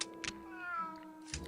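A cat meows once in the video game Grim Fandango, a drawn-out tonal meow that is close and clear against quiet game sound, with brief soft clicks at the start and end.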